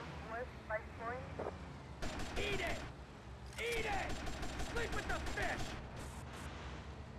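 Bursts of rapid gunfire from a shootout with gunners on a jetty in a Grand Theft Auto Vice City mod, loud repeated volleys in two main stretches, with game voices talking in the background.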